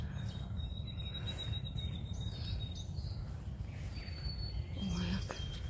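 Spring birdsong in the open air, several small birds chirping and trilling in brief thin calls over a steady, loud background hum, with no talk heard.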